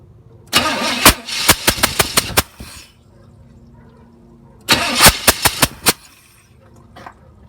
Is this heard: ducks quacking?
no